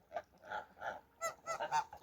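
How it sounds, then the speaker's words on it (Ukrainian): Domestic geese that have just come back from grazing and are bathing give repeated nasal honks, six or so in a loose rhythm, faint and fairly close. "гуски прийшли, купаються зразу"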